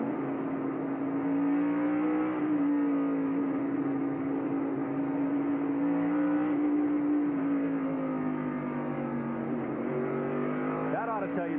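A race car engine at three-quarter throttle drones at a steady, held pitch without revving up, loud and continuous throughout with only slight wavers in tone.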